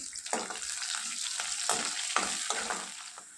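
Chopped green chillies sizzle in a pan for a Telugu home-style flat bean curry, with a steady fry hiss broken by several sharp stirring scrapes at a close, moderate level.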